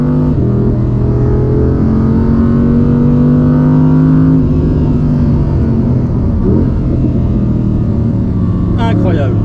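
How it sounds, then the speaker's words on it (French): A naturally aspirated 5-litre V10 rear-wheel-drive sports car, rated at 620 horsepower and revving toward 9000 rpm, roars loud and close, its pitch climbing and then dropping as the engine winds down. "le V10 5 litres de atmosphérique est une pure merveille qui roule jusqu'à quasiment 9000 tours minute"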